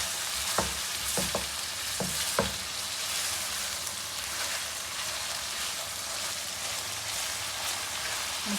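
Onion, garlic and green chillies frying together in oil for beef masala give a dense, steady sizzle, with a few sharp spoon knocks near the start, close by and with no voices.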